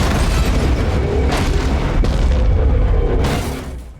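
A loud movie explosion, a dense roaring boom with rumbling debris that holds steady for several seconds before fading away.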